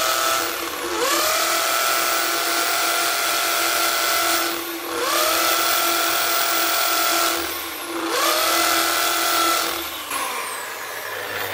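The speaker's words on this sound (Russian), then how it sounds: "Вообще не сверлит." A power drill whines at high speed against a hardened brick without biting in, running in three long sustained bursts with brief dips between them, loud and close, with no talk over it.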